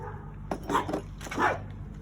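A dog barks twice nearby, two sharp yips in quick succession over a low steady background hum.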